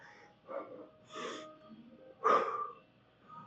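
Heavy breathing after lifting weights during leg day, several close, raspy breaths and snorting exhales with pauses between them, no talking.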